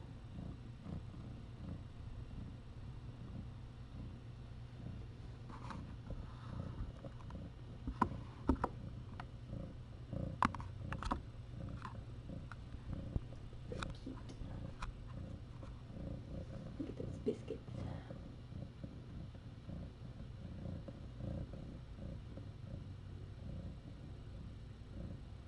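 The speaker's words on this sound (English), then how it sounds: "So much purring." A mother cat with kittens purrs steadily as a low continuous rumble throughout, with occasional soft ticks and rustles over it.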